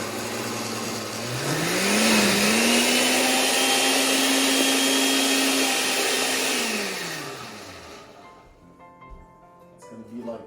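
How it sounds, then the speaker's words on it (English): A blender whirs up and runs at a steady high pitch for several seconds, blending cooked chicken solids with cilantro leaves for pozole verde, then winds down and stops; loud and close, with faint talk near the end. "Blend these up."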